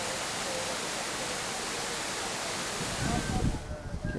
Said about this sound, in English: But there's this huge waterfall